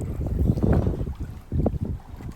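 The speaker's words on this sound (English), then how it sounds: "the wind's starting to pick up anyway" Wind gusting at sea from a small boat during a spearfishing trip near offshore wrecks, a broad rumbling buffet of wind noise on the microphone with water wash, swelling in two loud surges.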